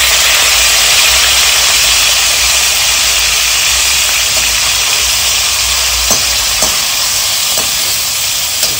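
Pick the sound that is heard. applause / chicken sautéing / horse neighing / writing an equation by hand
chicken sautéing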